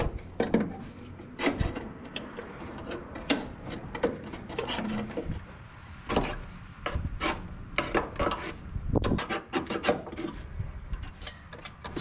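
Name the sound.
scraping an old gasket off a 1961 wagon brake part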